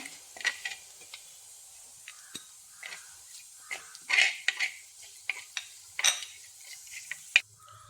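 A spoon scrapes and taps in a pan of fried onions, chillies and curry leaves, giving irregular clinks and short rustling stirs over a faint background sizzle. No voices.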